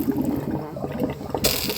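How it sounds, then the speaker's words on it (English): Hot water poured off boiled saltfish in a home kitchen, a steady close splashing and gurgling stream that brightens and grows louder near the end as the pour finishes. "I'm going to pour off this water from the saltfish. Pour off this hot water here."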